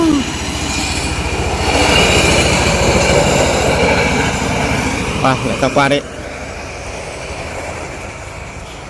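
A train crosses a pink-painted bridge in light rain, rumbling past with a steady heavy roar and wheel clatter, while a person speaks briefly over it before the noise drops away.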